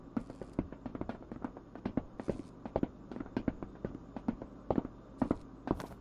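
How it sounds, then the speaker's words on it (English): Sharp, irregular cracks and pops sound throughout, like scattered gunfire at a distance, in the video game Marauders, with no talking. "Gunfire out here somewhere."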